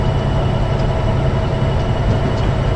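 A locomotive in Train Sim 2015 rumbles continuously with a dense, low engine drone and steady rolling noise throughout, with no voices.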